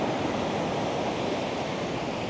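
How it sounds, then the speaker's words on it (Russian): A large flow of water rushing at a micro hydroelectric station in a remote Tajik village, heard as a steady, loud, unbroken roar of broadband noise with no pauses. "здесь большой поток воды"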